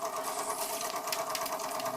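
Bing model steam engine running on steam, a fast even mechanical chuffing and whirring with a steady hum, close and continuous, with no talk.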